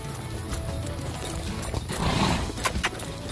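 Horse hooves clopping on a trail ride in Mexico, an uneven run of soft thuds set against steady broadband outdoor noise, with a few sharper knocks near the end.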